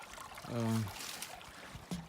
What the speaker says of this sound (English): there's quite a bit of water in this stream here